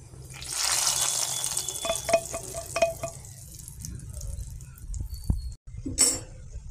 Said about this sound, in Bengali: সেই ফোড়নটা মাছের ঝোলে দিয়ে দিচ্ছি।